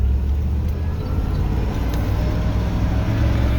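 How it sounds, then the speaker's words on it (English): A stick-shift car with a repaired Ford EFI 460 engine pulls away, giving a loud, steady low engine rumble that holds throughout, close by. "let's take it out for a drive and see how it learns"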